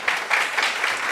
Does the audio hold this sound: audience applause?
yes